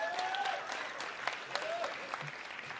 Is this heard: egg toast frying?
no